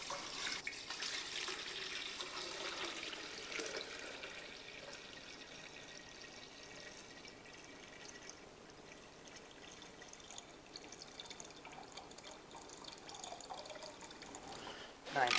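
Water poured steadily from a container into a bucket sitting on a scale in a lab for bomb calorimetry, a continuous splashing pour lasting throughout, fairly close and moderately quiet.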